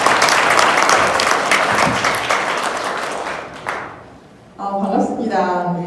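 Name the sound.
audience applause welcoming lecturer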